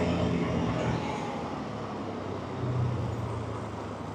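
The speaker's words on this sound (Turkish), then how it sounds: "İstanbul akşam trafiği bu saatlerde her zaman böyle." Dense Istanbul evening road traffic heard from a KTM 250 Adventure motorcycle, a steady broadband roar of cars, buses and trucks close around, with no clear talk.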